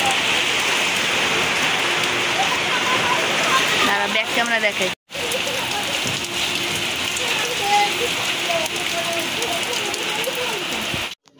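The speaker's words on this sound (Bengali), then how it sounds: "এখন মনে হয় যেন ভাসিয়ে নিয়ে চলে যাবে, এত বৃষ্টি হচ্ছে" Heavy rain pours down outdoors in the dark under a cold wind, making a loud, steady, dense hiss that continues throughout. A voice speaks briefly, and the sound drops out for a moment near the middle.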